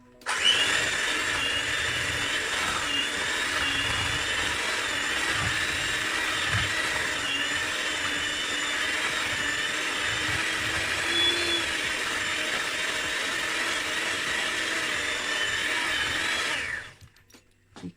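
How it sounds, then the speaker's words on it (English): A handheld electric whisk beats thick chocolate traybake batter, a steady high-pitched motor whine running continuously for about seventeen seconds, close and alone, then cutting off at the end. "So I've got my electric whisk here, handheld, and we're going to go in with the mixing."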